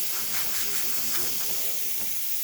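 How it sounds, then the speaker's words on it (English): Steady broadband hiss of steam jetting from the steam wand of a Breville Barista Express espresso machine, continuous for the whole stretch, with faint low murmurs underneath. "So the steam's going to come out a little bit watery at first."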